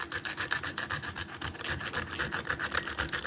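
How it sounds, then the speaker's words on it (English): Whole nutmeg grated by hand for an Alfredo sauce, a steady run of quick rasping strokes, close and fairly loud, repeating evenly with no voices. "I'm going to grate the nutmeg."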